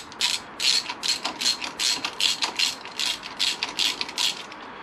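A hand ratchet snugs up cam cap bolts on a Honda VFR800 VTEC engine, giving a steady run of quick, close clicking bursts in an even rhythm, with no voices.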